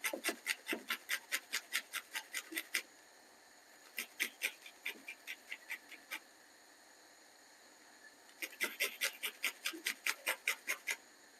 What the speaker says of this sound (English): So what I'm gonna do now is grate the garlic same time.